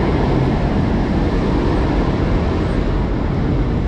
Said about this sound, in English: Wait for this subway to pass.